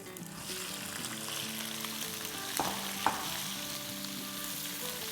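About 250 grams of two kinds of chilies, long hot ones and short thick ones, hit hot oil in a pan for an instant raw mango pickle, sizzling loudly and steadily with a couple of sharp utensil clinks.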